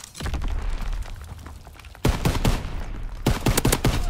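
Gunfire bursts in Call of Duty WWII, with a steady stream of shots in the first half and then two loud, sharp clusters of reports around the middle and near the end, all close and without talk.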